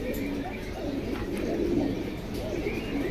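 Caged pigeons offered for sale coo close by, soft repeated throaty calls rising and falling over a low background murmur, with someone talking in the clip.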